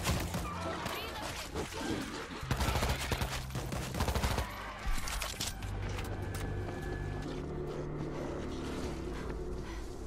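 Heavy automatic gunfire in the zombie shooter World War Z, rapid bursts crackling through a dense, chaotic mix of game effects, with voices shouting over the shooting.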